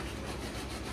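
Car body filler on a 1970 Challenger being sanded with 80 grit sandpaper, a continuous coarse rubbing scrape heard close up and alone in a brief burst.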